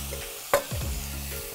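Green asparagus and bread roasting in a frying pan give a steady, quiet sizzle, broken by one sharp scrape or clatter of stirring partway through, with no talking.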